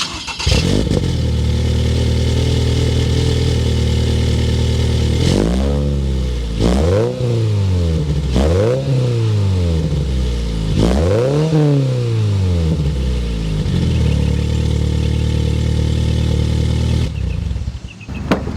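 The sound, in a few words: Toyota GR86 with catback exhaust started and revving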